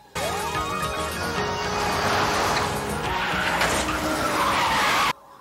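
Tires skid and squeal loudly through a car chase scene in a movie, with engine noise and a steady wash of screeching that lasts about five seconds, then cuts off abruptly.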